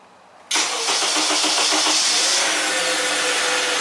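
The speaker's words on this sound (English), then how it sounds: "We could see that was cranking a little bit slow as well." A 2010 Honda Accord with a weak battery, its starter cranking slowly and rhythmically after a sudden start, close and loud, for about three seconds.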